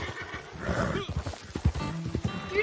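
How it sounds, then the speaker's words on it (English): A horse in a Wild West video game whinnies sharply amid rapid galloping hoofbeats, loud and close, with excited voices talking over the action. "That's a horse."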